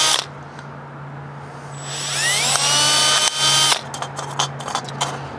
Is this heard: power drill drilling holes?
yes